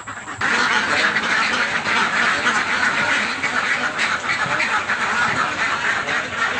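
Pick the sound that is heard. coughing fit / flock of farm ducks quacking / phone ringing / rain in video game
flock of farm ducks quacking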